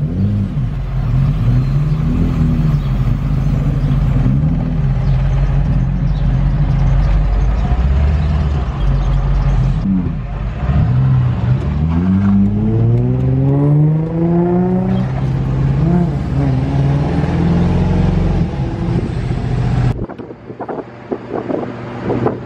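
A Nissan 350Z on its first drive rumbles along with engine tones rising and falling through gear changes, steady road noise and heavy wind buffeting the microphone, loud and close throughout.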